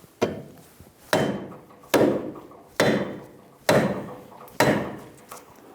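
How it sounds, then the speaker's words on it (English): Six sharp metallic blows from a saw face hammer striking a front axle on a 2000-2007 Ford Focus, at a steady, unhurried pace, each ringing briefly before the next strike, close by with no talking. "Using a saw face hammer, we're going to make sure that the axle slides in and out in the splines."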